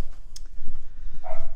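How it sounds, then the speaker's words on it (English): A dog barks a few times indoors, sharp and fairly close, rising over a quiet room during a tabletop miniatures game. "Sorry about the dog barking"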